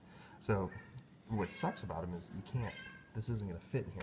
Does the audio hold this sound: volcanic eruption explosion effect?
no